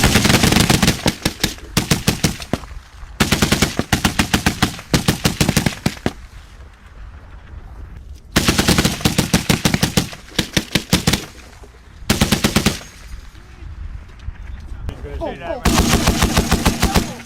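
Bursts of rifle and machine-gun fire during a NATO military exercise in Norway, several loud rapid volleys separated by short pauses, with the final burst longest.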